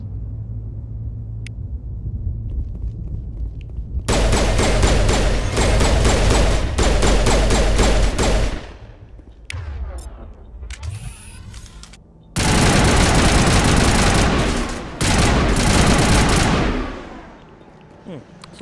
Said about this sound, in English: Assault rifle's actually doing a lot better.